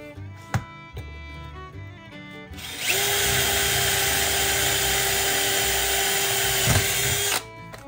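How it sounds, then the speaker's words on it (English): After a few light clicks, a power drill spins up and bores a center-punched hole in metal on a 1995 Ford F-150 with a loud, steady high whine for about four and a half seconds, then stops. "All right, let's drill it out."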